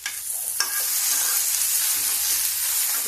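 Broad beans (sem) fry in a pan on low heat, a loud continuous hiss and sizzle with a brief stir-scrape near the start, and no voices.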